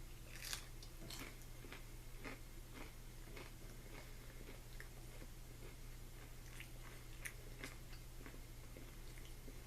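Cheese-flavored Doritos Loaded snacks bitten and chewed close up, a steady run of crunchy, wet bites and mastication over a constant low hum, with no talking.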